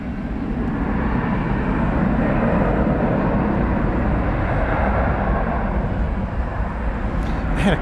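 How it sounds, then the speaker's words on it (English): An Airbus A321, flight 2709 bound for Palm Springs at DFW Airport, gives a steady broadband jet engine roar that stays even throughout, with no talk over it. "It's an Airbus A321."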